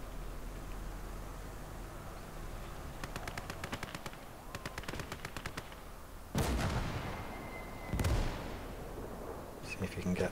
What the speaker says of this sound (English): something's shooting at him